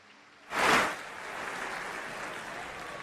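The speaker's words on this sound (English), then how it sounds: "Please give them all a round of applause" An audience at the 2019 International Bluegrass Music Association Awards Show breaks into applause, a sudden loud swell of clapping that settles into steady, broad clapping from the crowd.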